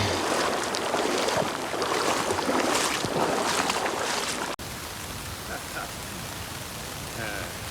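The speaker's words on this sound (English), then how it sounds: "it's been raining for like the last 3 or 4 hours" Steady rain pattering on the John Muir Trail on a chilly day while hikers wade knee-deep, a dense continuous hiss with a brief cut midway, then softer patter with faint voice-like sounds.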